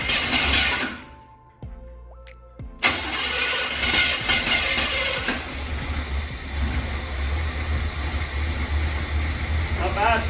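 A 1981 GMC Sierra parts truck that has sat unused for years, its engine cranking with a click, then catching and roaring up loud and close before settling into a rough, steady idle.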